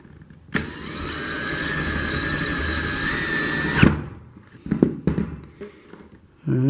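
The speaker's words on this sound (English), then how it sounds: "Already got my drill set up with a Phillips bit on it" A drill fitted with a Phillips bit drives a screw in one sustained, loud whirring run of about three seconds, followed by scattered knocks and handling noises, with talk nearby.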